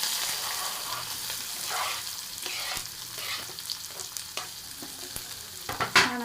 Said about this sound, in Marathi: कांदा नरम होईपर्यंत भाजून घ्यायचं.